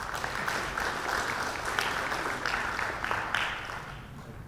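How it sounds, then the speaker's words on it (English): An audience at a public forum claps for a welcome address, a moderately faint but steady patter of many hands lasting several seconds with no voices over it. "Round of applause, please."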